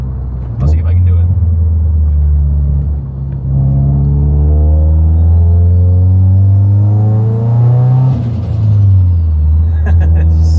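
A Subaru STI with a stock motor and a GTX3582R turbo revs hard, its engine note climbing as the turbo spools up, then dropping off sharply with a whoosh and flutter when the throttle is released; loud, close, with brief clatter at start and end.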